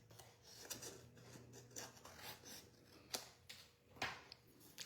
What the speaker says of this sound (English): I'm going to cut it with my snips.